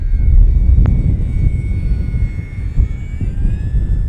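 An FMS Kingfisher RC model airplane passes close by in gusty wind, its electric motor whining steadily over loud wind rumble, with a brief sharp blip partway through.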